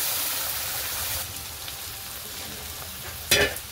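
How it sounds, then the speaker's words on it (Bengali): Onions already fried, with spices added in a pan for ghugni, sizzle as a steady, close hiss, with one brief louder burst of sizzling near the end. "পেঁয়াজটা ভেজে নিয়েছি ভালো করে, আর এই মশলা দিয়ে দিই।"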